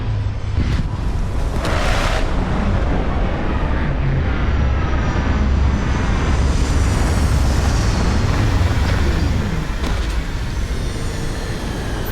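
Spaceship touching down in Starfield, a steady loud roaring rumble of engines and rushing air that holds for the whole stretch, with a few brief hissing bursts on top and no one speaking.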